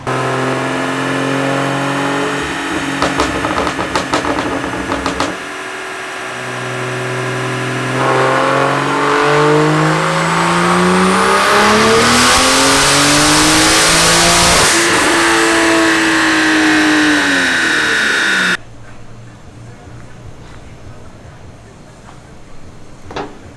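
A BMW 335i with a single-turbo N54 engine revs and climbs hard through a long, loud pull, then cuts off into crackling, popping burbles as it settles.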